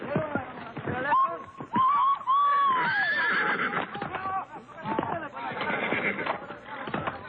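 Horse neighing and whinnying loudly while being broken by an Argentine gaucho, with repeated shrill calls and hoof clatter over a steady backdrop of voices and commotion.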